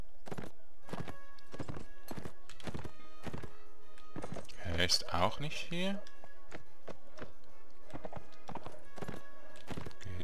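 Horse hooves clip-clop in steady, evenly spaced beats in the video game Mount & Blade Warband, with a brief neigh midway, while someone talks in German over the hoofbeats.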